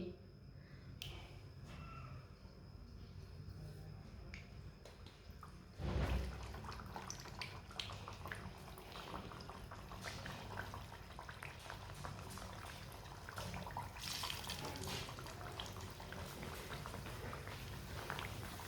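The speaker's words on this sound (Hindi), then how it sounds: "ऑयल हमारा अच्छी तरह गर्म हो चुका है। अब इसमें टिक्कियाँ डाल लेंगे, मीठी टिक्की।" Sweet tikki patties (meethi tikki) sizzle and bubble as they fry in hot oil, a steady close boiling crackle with a louder splash around the moment they drop in, no talking.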